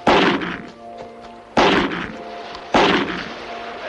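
Three loud gunshots ring out one after another at a drifting boat in a radio drama, evenly spaced sharp cracks, each trailing off in a brief echo.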